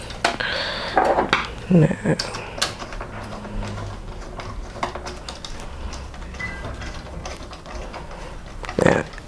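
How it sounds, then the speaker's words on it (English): Dell OptiPlex 790 desktop with its CPU cooler being refitted: scattered close metallic clicks, clinks and ratcheting taps of hardware, loudest at the start and end, over quiet room noise. "Okay, now let's put the cooler back on."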